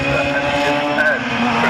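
Historic Formula 3 race cars howl past on the circuit with droning engine tones that shift in pitch, loud and close, under a commentator's voice.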